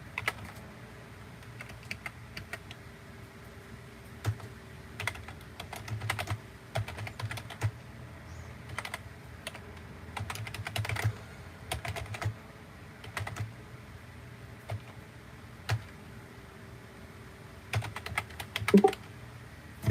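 Steady, irregular clicking of a computer keyboard being typed on fills the whole stretch, close and fairly quiet, with small bursts and pauses and no voices.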